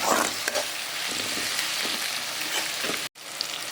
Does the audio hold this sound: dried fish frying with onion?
yes